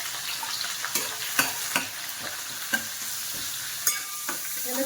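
Onion is sautéed in a pan with urad dal and oil for a homemade ragi diet recipe, making a continuous soft sizzle punctuated by several crisp spatula scrapes and taps at irregular intervals, close by, without voices.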